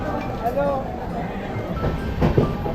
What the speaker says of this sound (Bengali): দুন এক্সপ্রেস আমাদের একদম নির্দিষ্ট সময়েই ছেড়ে দিয়েছে